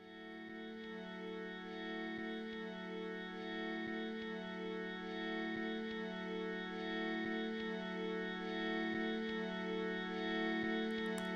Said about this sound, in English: I made this with a loop pedal by basically just layering up loads of stuff,